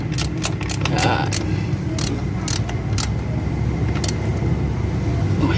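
Ratchet tightening the thermostat housing bolts on a Toyota Fortuner, a series of quick metallic clicks and ratcheting bursts over a steady low engine-bay rumble, close and fairly loud.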